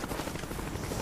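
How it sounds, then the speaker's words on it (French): An attack helicopter in a first-person shooter video game throbs with a steady low rotor drone, loud and close for a brief moment. "c'est un hélicoptère d'attaque."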